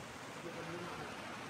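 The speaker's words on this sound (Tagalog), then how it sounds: "Ang lakas ng ulan." Heavy rain pours down at a campsite in Tanay, Rizal, a dense, even hiss of falling water, soft and steady throughout.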